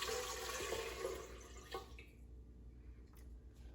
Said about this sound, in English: add 2 cups of warm water into a bowl